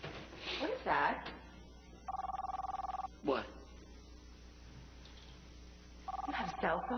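A cell phone rings in two long electronic bursts, separated by a few seconds, loud and close, while people talk and shout around it in a small enclosed room.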